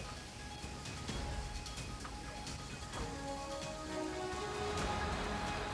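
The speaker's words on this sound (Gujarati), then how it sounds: "ગઢિયા, નાગદરા સહિતના ગામોમાં ધોધમાર વરસાદ નોંધાયો." Heavy rain falls across villages in Gujarat's Amreli district, a steady broadband wash of drops hitting surfaces that holds through the whole stretch, with faint tonal background sounds mixed in and no talking.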